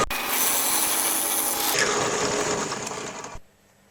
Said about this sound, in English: This is a 19/64 drill.